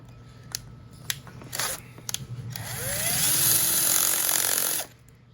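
A power drill boring a hole in an engine whines steadily at close range for a couple of seconds, preceded by short scraping and clicking bursts.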